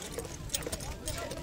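Horse hooves clip-clop during a kok-boru match as a rider brings in a horse named Burkut, a quick patter of close steps beneath loud, continuous talking.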